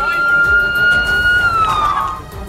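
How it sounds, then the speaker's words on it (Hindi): A siren tone holds steady and then slides downward, fairly loud, over busy background noise, during a missile attack on a Ukrainian city with a burning building. "पूरे इलाके में सायरन की आवाज भी गूंज रही थी।"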